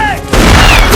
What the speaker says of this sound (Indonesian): Sebuah tembakan dilepaskan.